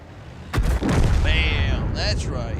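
A heavy artillery shell strikes a tank in the World of Tanks video game, landing as a deep, booming impact followed by rumbling and metallic game effects over roughly two seconds.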